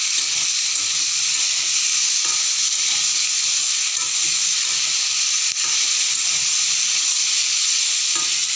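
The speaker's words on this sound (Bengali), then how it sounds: "আর এখানে আবার একটু তেল অ্যাড করে আলু বেগুনগুলিকে একটু হালকা ভেজে নেব।" Chunks of potato and eggplant frying lightly in oil in a wok, a loud, close, unbroken hiss and sizzle that holds steady throughout, with no voices.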